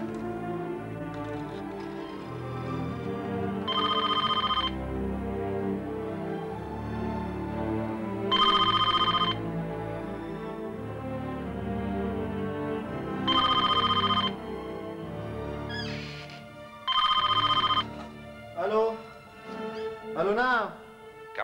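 A telephone bell rings in repeated bursts roughly every four seconds beneath a steady bed of dramatic background music in an 1982 Lebanese film, with further short electronic tones near the end.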